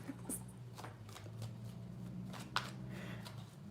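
Tarot cards riffle and slap through several quick shuffles, close and fairly quiet, with short papery bursts and one sharper snap, over a low steady hum.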